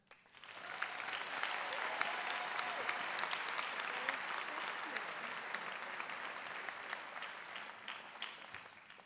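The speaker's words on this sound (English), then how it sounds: "let's have another wonderful round of applause for these inspiring graduate speakers" Sustained applause from a graduation ceremony audience, many hands clapping steadily for several seconds before tapering off.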